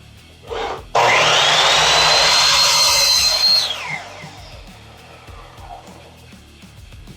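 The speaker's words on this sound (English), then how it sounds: "this is the Ryobi 10-inch compound sliding miter saw" A Ryobi 10-inch compound sliding miter saw spins up and cuts through wood in a single loud, close whine of about three seconds, then winds down into quiet room noise.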